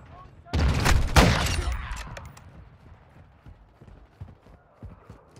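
Video game gunfire in Modern Warfare 2 erupts as two loud, close bursts in the first second or two, then trails off into scattered fainter shots and battlefield clatter.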